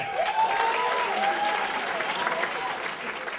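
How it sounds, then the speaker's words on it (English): Warm applause from an audience for comedian Melanie Rose, a steady wash of clapping with a vocal tone riding over it and no clear break. "Big warm round of applause for Miss Melanie Rose, everybody"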